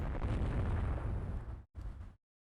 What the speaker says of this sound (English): We got hit by one of their medium guns.